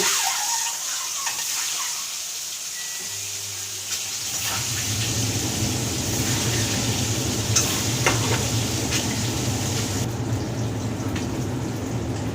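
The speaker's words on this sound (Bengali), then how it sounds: "এবার ডিমগুলো সব ভেজে নিচ্ছি, কড়াইতে দিয়ে দিচ্ছি।" Duck eggs frying in oil in a wok, a steady close sizzle that swells louder after a few seconds, with scraping and stirring sounds mixed in and no talking.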